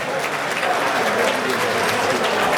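A crowd applauds at a school's anniversary dinner, with steady, dense clapping that carries on evenly from start to finish.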